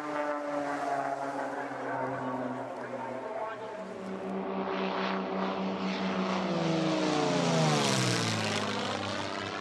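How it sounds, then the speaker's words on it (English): A propeller airplane drones steadily overhead with no talk; the engine tone rises and shifts in pitch as it passes. "An airplane truly is one of the awesome things that"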